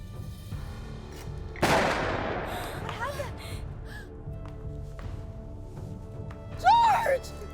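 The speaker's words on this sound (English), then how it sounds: "Was that a gunshot?" A single sharp gunshot bursts out loud and close, followed by a decaying echo, with frantic voices crying out before and after it in a dramatic scene.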